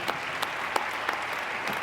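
Audience applause at a debate competition, a dense wash of clapping from a crowd with scattered sharper claps standing out, continuous for the whole stretch at moderate loudness.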